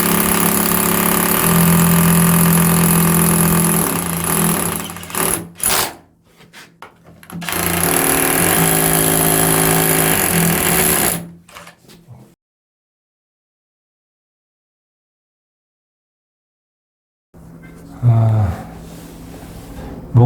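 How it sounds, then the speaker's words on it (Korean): Power drill boring deeper into a bathroom wall for a sink install, loud and close with a steady grinding whine that cuts out briefly, resumes, then stops into silence before a short final burst. "그래서 조금만 더 깊이 뚫어 보겠습니다."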